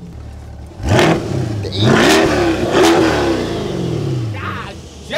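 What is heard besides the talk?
C8 Corvette engine revving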